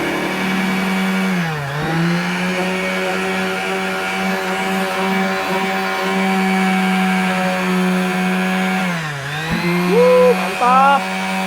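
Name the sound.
angle grinder grinding a realme 6 smartphone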